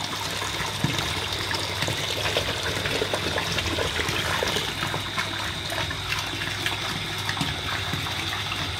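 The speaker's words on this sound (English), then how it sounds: "So the pump is going to pull more water." Water is drawn by a household pump from the main, a steady gushing rush with a constant mechanical hum underneath, close and continuous, with no voices.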